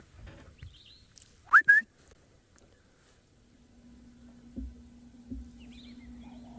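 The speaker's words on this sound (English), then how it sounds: "I can hear the somber greenbill calling here" Sombre greenbul calling at a safari site: a brief pair of bright whistled notes early, then a faint low hum with a couple of soft thumps.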